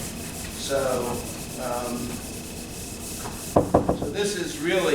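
Hand sanding a guitar's French-polished finish before a thin glazing coat makes soft rhythmic rubbing strokes, close and quiet, while someone talks over part of it.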